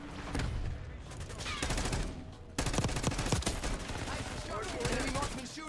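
Video game combat with near-continuous rapid gunfire and sharp bursts, loud and close throughout, with a heavier blast partway through.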